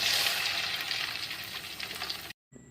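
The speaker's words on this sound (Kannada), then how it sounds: "ಎಣ್ಣೆ ಕಾಯ್ತಾ ಇದೆ ಇವಾಗ ಒಂದೊಂದಾಗಿ ಬಿಡ್ತಾ ಇದ್ದೀನಿ" Garlic kebab pieces fry in hot oil, making a bright, continuous sizzle and crackle that cuts off abruptly near the end, with no one speaking.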